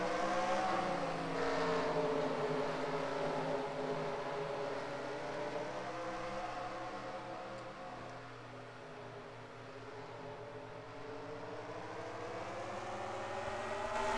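Stock race cars roaring away at the green flag on a short track at the Southern States 300, several engines layered with rising and falling pitch as the pack accelerates and passes, continuous and distant.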